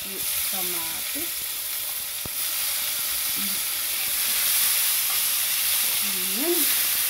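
Garlic, onion and tomato sizzling in a pan, a steady close frying hiss throughout, with a voice speaking briefly over it now and then.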